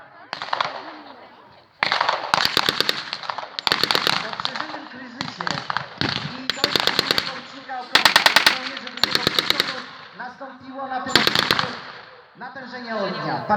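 Machine gun fire at a wartime battle reenactment in Wąchock, with long loud rattling bursts and sharp cracks repeating through the clip, some near and some farther off, with voices mixed in.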